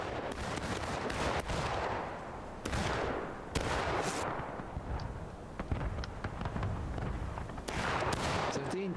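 Heavy, sustained gunfire from a War of Rights Civil War battle, with dense overlapping musket volleys and sharp individual shots cracking through a constant roar of distant firing.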